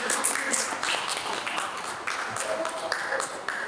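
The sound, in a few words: audience applause for the speakers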